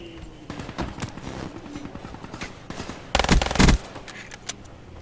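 An RK5 gun fires in a video game, letting off short rapid bursts with one louder sustained volley near the end, mixed with other game sounds.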